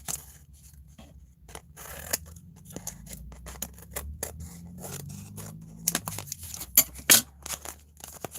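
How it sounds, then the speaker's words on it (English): Scissors snip around paper images for collage cards, a series of quick close crisp cuts spread irregularly across the clip, with faint paper rustling between them and no talking. "you don't have to try to cut the background or the image that you want to put down perfectly to the card. You just trim around."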